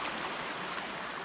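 Steady broadband rush of creek water flowing over rocks along the Georgia Pinhoti Trail near its northern terminus, a continuous close wash with no voices.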